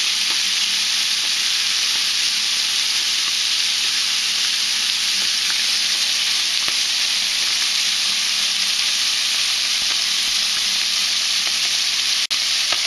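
Large crappie fillets blackening in a hot pan, a loud, even, continuous sizzle that hisses steadily throughout with barely any change.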